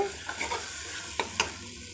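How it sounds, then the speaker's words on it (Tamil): Onion, tomato and ginger garlic paste sautéing in a pan for kuska, a steady low sizzle with two sharp spoon scrapes against the pan near the end, close and alone with no talking. "இஞ்சி பூண்டு பேஸ்ட் போட்டாச்சு போட்டு நல்லா வதக்கிக்கோங்க"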